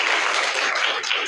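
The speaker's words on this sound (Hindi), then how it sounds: "इनके लिए भी आप लोग तालियां बजा दीजिए" School students in a Varanasi junior high classroom clap together, a brief, fairly loud burst of applause with no voices over it.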